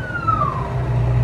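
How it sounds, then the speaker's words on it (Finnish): A passing ambulance siren with a steady falling wail, heard from inside a moving vehicle on the road in Slovakia, loud over a low engine rumble. "Ambulanssi. Apua!"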